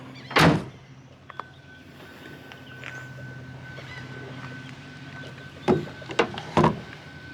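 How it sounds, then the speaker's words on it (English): A Ford F-150 XL pickup tailgate drops open with no damper, giving a heavy metallic thunk near the start, then a cluster of clanks and knocks near the end over quiet outdoor hum. "No soft dropping tailgate there."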